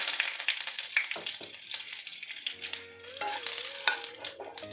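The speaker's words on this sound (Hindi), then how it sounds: "और अब इसमें डाल देंगे कड़ी पत्ते" Two whole dried red chillies and curry leaves sputter and crackle in hot oil for a kadhi tempering, a busy sizzling hiss with stirring scrapes throughout.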